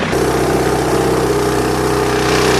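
A tractor engine idles steadily nearby with a loud, even, low rumble and a constant throb, running alone without talk.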